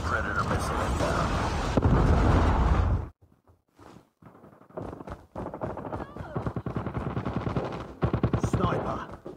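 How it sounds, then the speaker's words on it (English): A Predator missile strike in Call of Duty Mobile lands as a heavy, roaring blast lasting a few seconds, followed after a brief lull by loud, rapid bursts of close automatic gunfire. "Friendly Predator missile inbound."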